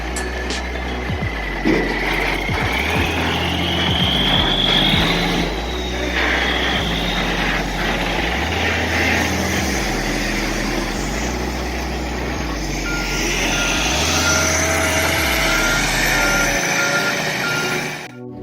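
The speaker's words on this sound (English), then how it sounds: "A skidder approaches from behind, positioning itself carefully to push the truck forward." A skidder's engine labours behind a fully loaded log truck pushing it through mud, a steady heavy diesel drone with repeated reversing beeps pulsing throughout, fairly close and continuous with no talk.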